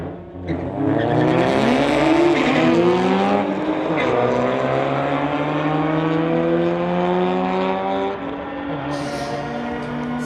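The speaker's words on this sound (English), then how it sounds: "We've got a GTR versus the Mazda." Race cars at a street-legal drag racing event, a Nissan GT-R against a 2008 Mazda 3, roar loudly as engines rev through rising gear pulls for several seconds, steady and close, with announcer talk mixed in.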